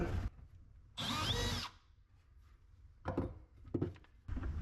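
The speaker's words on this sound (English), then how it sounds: "use a self-centering drill bit to get going here" A power drill with a self-centering drill bit whirs in two bursts, a short one then a longer high-pitched run, followed by several quick clicks and clunks nearby, during a shop cabinet build.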